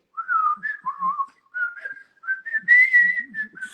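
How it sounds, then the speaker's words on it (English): A person whistles a short, wavering tune alone, several clear phrases with brief pauses between them, close and moderately loud. "And she can start whistling."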